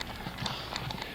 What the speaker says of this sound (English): let me show you the wild horses came in